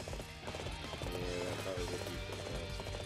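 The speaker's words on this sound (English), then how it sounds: "I like how the horse roars in Dynasty." A horse galloping in the video game Dynasty Warriors 8, with rhythmic clip-clop hoofbeats under game music and someone talking over it.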